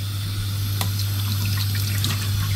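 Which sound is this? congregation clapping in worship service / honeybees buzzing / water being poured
water being poured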